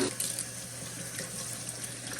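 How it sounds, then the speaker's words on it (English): Hot tap water runs steadily over blender parts being rinsed in a sink, a continuous close gushing splash with no talking. "And just rinse it real good."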